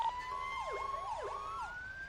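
A fire vehicle's siren wails in a GTA roleplay game, with overlapping sweeping tones dipping and rising in quick cycles, steady and moderately loud from nearby.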